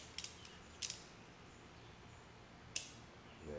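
A blade trims VVivid vinyl wrap along the fender of a 2017 Subaru Outback, between the fender body and black plastic cladding; a few brief, faint crisp snips and ticks come in a quiet room, with a short double cut early and one later.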